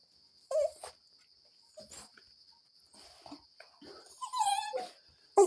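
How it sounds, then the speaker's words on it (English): A happy dog whimpers and whines in short, high bursts separated by quiet gaps, close to the listener, over a faint steady insect-like hum. "This dog is ever happy"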